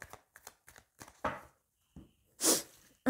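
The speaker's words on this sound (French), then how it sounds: "Ben ouais, il a fallu que j'éternue là" After a run of soft clicks and taps, a person lets out a single abrupt sneeze close to the mic, a short, loud burst in an otherwise quiet room.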